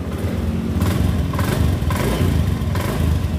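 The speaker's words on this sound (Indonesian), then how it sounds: "Motor udah hidup teman-teman." A motorcycle engine that was push-started after its weak battery failed to crank it runs steadily throughout, a continuous mid-pitched idle with slight rises and falls, close and alone with no talk.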